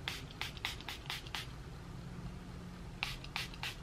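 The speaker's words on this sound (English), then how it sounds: "I'm going to go in with the Milani Make It Last setting spray" Several quick hissing bursts of Milani Make It Last setting spray, a cluster of short puffs followed by a pause and then a few more, close up over a low background hum.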